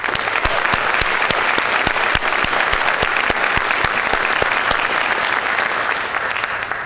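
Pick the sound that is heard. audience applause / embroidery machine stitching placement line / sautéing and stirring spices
audience applause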